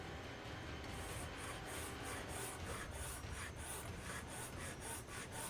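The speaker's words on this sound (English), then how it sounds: "wee bit of sanding there." Wood being sanded by hand in steady back-and-forth strokes, a rhythmic raspy rubbing that carries on evenly throughout, close up and fairly quiet.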